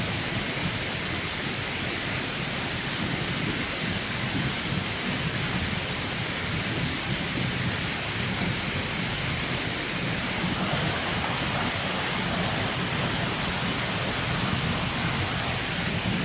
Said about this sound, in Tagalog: maingay yung sapa tol